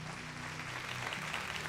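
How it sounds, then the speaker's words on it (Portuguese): A church congregation applauding in praise during a worship service, a brief, faint, distant wash of clapping with a low musical hum underneath. "Mais uma salva de palmas ao Senhor, nosso Deus."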